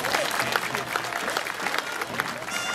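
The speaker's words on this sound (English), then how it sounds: "show our appreciation with a big round of applause for our sponsors" Audience at the 27th annual Concord Jazz Fest gives a big round of applause for the event's sponsors, a dense steady clapping from a crowd, near and continuous throughout.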